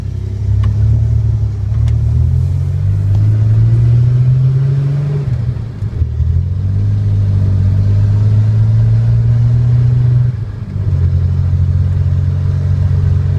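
A 1986 Ford Ranger with a 2.9 engine, still cold and running with issues, pulls away under load. The engine note rises steadily through two gear-like climbs with a brief dip between, loud and close from the cabin.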